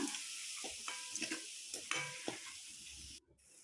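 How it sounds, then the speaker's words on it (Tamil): Ground paste for thoothuvalai rasam stirred in hot oil, sizzling steadily with a spoon scraping and clicking against the pan in irregular strokes, close and alone, ending abruptly near the finish. "நம்ம அரைச்சி வச்சுருக்கிறத சேர்த்துட்டு நல்லா கிளறி வெட்டிக்கலாம்"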